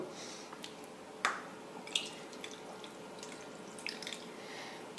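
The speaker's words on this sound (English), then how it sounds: "Okay, I've connected up the pump. I'm just going to run that quickly. It's on. You can see that's pumping round now." Water trickles and drips faintly as a pump circulates it through a PC water-cooling loop being filled for a Threadripper build, with a few small splashes and clicks over a soft steady hiss.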